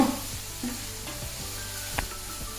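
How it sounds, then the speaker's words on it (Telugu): Ridge gourd and other vegetables frying in a pan on a medium flame, a steady close sizzle with soft stirring scrapes and clinks throughout. "మనం ఫ్రై కదా చేసుకోవటం మీడియం ఫ్లేమ్ పెట్టి చేసుకోండి"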